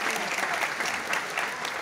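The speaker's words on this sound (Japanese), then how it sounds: "大きな拍手お願いいたします。" Audience applause at a Yoshimoto manzai comedy theatre event in Osaka, a brief, full and even burst of many people clapping.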